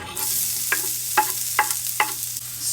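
Shallots sizzle in olive oil in a pan, a steady frying hiss punctuated by four evenly spaced close scraping clicks of a utensil stirring.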